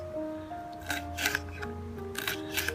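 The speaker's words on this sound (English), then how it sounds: "I'm going to start chopping the green pepper now." A knife chopping green pepper on a cutting board in a home kitchen, giving several quick, close cuts in irregular bursts over a low steady hum.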